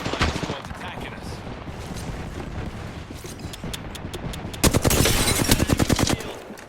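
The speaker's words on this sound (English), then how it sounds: "Getting shot at." Gunfire in Apex Legends, scattered shots early and then a dense, loud burst of rapid automatic fire near the end, close and punchy, with game voice lines mixed in.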